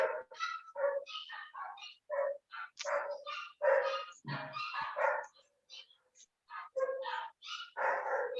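Several small dogs bark and whimper close by in quick, overlapping bursts, yipping and whining almost without pause, with one deeper growl partway through.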